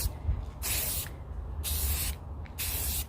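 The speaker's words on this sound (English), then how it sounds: "I'm just going back and forth. I'm not doing that constant spraying like this." A spray paint can lays down a light mist in three short back-and-forth bursts, each a close, airy hiss with brief pauses between passes.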